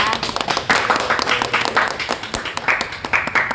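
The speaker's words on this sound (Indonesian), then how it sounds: "Sebelumnya kita tepuk tangan dulu ya." Several people clap in a podcast studio, loud close-up claps in an uneven, fairly quick rhythm that continues throughout, with a few brief voices mixed in.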